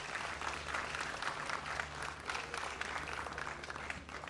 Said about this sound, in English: Let's give Kyle Miller and Dr. Kyle Miller and the Delta Cultural Center a round of applause